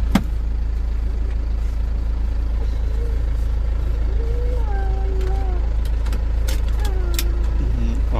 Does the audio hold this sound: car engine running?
yes